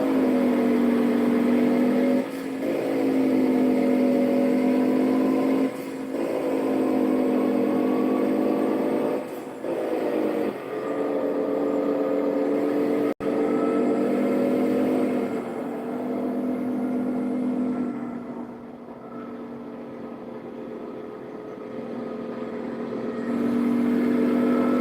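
A car engine in a video game revs steadily through the gears up to sixth, a continuous droning whine that climbs and drops at each shift, loud and unbroken with no talk.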